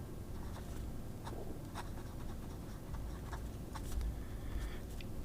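A Scribo Flow Armonia fountain pen nib glides across paper, a soft, close, steady scratching with light ticks as strokes start and stop, alone without any voices.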